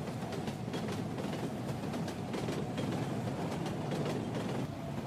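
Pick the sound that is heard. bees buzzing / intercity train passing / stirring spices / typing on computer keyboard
intercity train passing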